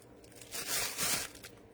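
Reinforced paper for a book cover base crinkles as it is handled, two soft rustling bursts close by against an otherwise quiet room.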